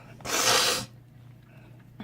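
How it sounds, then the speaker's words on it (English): Sharp nasal sniffle or snort, loud and close, lasting about half a second, followed by quiet room tone and a faint breath at the end. "Again, sorry for the sniffles."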